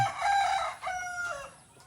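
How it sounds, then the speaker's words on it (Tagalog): Farm chickens call loudly and close by as they are about to be fed: several drawn-out, strained clucks and squawks in quick succession. "Pakain na natin itong manok"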